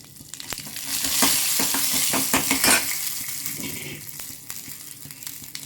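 Dried red chillies and spices crackle and sizzle loudly in hot oil for sambar tempering, a sharp burst of popping that gradually settles into a softer fry.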